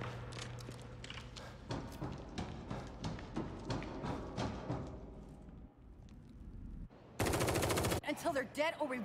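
Video game gunfire during a cabin shootout: bursts of rapid shots come through under game dialogue and music, ending in a loud, dense automatic burst near the finish.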